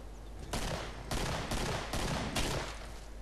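Gunfire in the video game Killing Floor: five loud, rapid bursts of shots in an uneven rhythm, close and alone with no talking.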